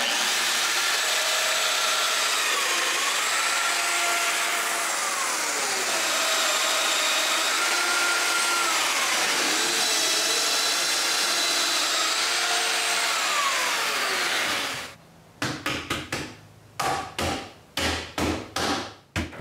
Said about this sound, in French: c'est le temps de percer les mortaises